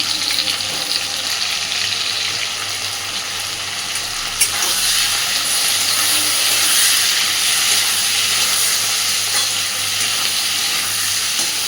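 Chopped onion and green chili fry in a pan with potato, a loud, continuous hissing sizzle held steady throughout, with one brief utensil tap partway and no talking.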